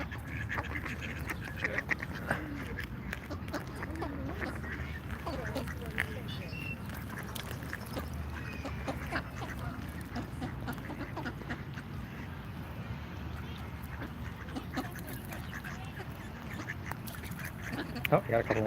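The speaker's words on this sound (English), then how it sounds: "you got a couple more ducks getting out of the water" Ducks quack by the water in Washington, DC, a steady outdoor murmur with crowd noise and talking voices running underneath throughout.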